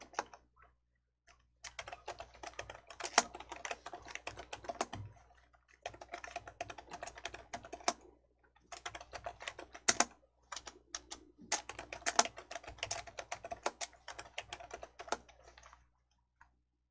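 Quiet, rapid clicking of computer keyboard keys in bursts separated by brief pauses, steady keystrokes during a Korean word-processing exercise, with no voices.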